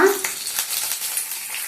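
Fresh coconut and lentils frying in a hot pan for a lentil and coconut chutney, a steady close crackling sizzle with no talk.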